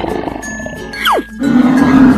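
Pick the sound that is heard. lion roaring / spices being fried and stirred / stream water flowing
lion roaring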